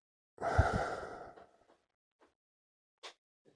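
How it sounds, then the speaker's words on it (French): A long, deep exhale during a guided breathing exercise, close and breathy, fading out, followed by a few faint soft breaths and small sounds. "Et soufflez une nouvelle fois."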